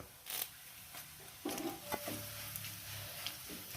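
Curry leaves hit a pan of browned ginger and garlic being cooked for a lemon pickle, a quiet close sizzle with scraping stirs and light clinks of a spoon against the pan.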